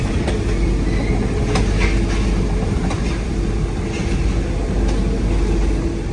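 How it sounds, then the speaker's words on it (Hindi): Le Shuttle train carriage crossing from Folkestone to Calais, a loud steady rumble of rolling stock with rhythmic clickety-clack from the wheels, continuous and close, heard from inside the carriage with no voices. "So that's the train."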